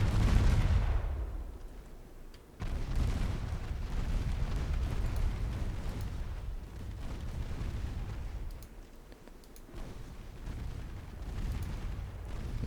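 Secondary naval guns in Ultimate Admiral: Dreadnoughts fire at enemy transports, producing repeated booming blasts with long rumbling tails. One loud close shot opens the sequence, and further reports follow at a slower pace. No one speaks.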